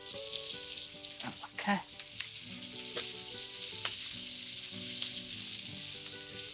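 Kale tossed into a hot pan with bacon and onion sizzles steadily and close, with a brief clatter of stirring near the start and a hiss underneath a faint tonal hum; a single short word is spoken.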